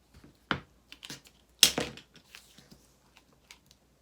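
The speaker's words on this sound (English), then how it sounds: "I'm going to cut the tape to match the same length as this little" Scissors or a blade snip tape for a corrugated plastic soap mold, giving a few sharp, close crunchy cuts with quiet ticks and rustles between them.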